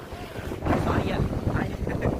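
Strong wind buffets the microphone on Puka Beach in Boracay, a loud gusty rumble that swells and surges continuously, with faint surf beneath.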